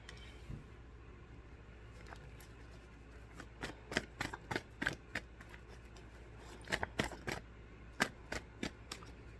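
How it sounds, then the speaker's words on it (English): A deck of cards is shuffled close by, a soft riffling that then turns into a run of sharp, quick slaps and flicks over a quiet room tone, with no talking. "we can get some more cards out"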